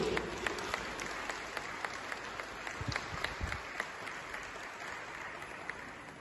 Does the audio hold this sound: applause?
yes